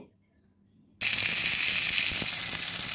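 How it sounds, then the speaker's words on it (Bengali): Onion and chopped chili hitting hot oil, with a faint quiet lead-in that breaks abruptly into a loud, continuous close sizzle that holds steady. "তেলটা গরম হলে পেঁয়াজটা দিয়ে দিলাম সঙ্গে দিয়ে দিলাম লঙ্কা কুচি"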